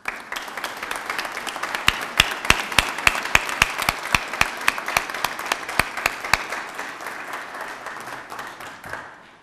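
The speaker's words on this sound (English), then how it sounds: "All CBN members stand for a round of applause." A crowd at the 3rd Annual CBN Awards claps for standing CBN members, a crisp, steady round of individual hand claps that carries on for several seconds and then tapers off at the end.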